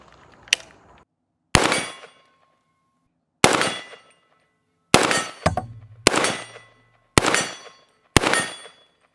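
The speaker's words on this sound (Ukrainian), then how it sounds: "Я зарядив 6 набоїв, все відпрацювало чітко по центру гонга." Six sharp shots from a B&T APC300 carbine in .300 Blackout ring out at irregular intervals, each followed by a bright metallic clang from a steel gong that rings and decays, with a quieter pop at the start.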